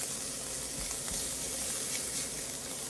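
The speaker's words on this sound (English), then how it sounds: "we want those shallots to do a little bit of sauteing." Shallots sautéing in olive oil in a pan give a steady, soft sizzle and hiss, close and even throughout, with no talking.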